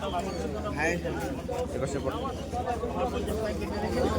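Pigeons cooing amid a busy bird market, soft repeated coos mixed into a steady hubbub of crowd chatter and people talking nearby.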